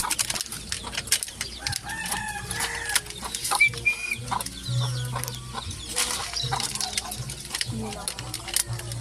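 A rooster among flyer-mix gamefowl crows amid scattered clucks and squawks, fairly close, with a person talking intermittently in the background.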